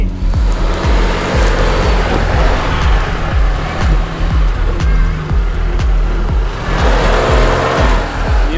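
Toyota Land Cruiser Prado 120 or Land Cruiser 100 SUV engine straining and revving off-road, loud and continuous with repeated surges as the gas is pressed, close to the microphone over rough background noise.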